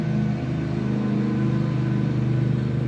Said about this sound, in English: Well, that vehicle's making a lot of noise.